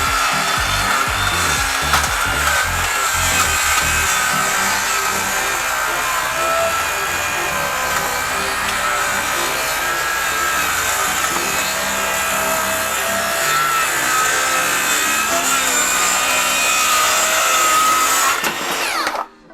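A cordless hypoid circular saw cuts through wood at a 45-degree bevel, its loud, whining motor and rasping blade running continuously for nearly twenty seconds before abruptly stopping at the end.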